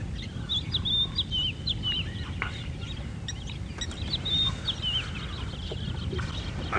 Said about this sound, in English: Lots of Egyptian geese, lapwings.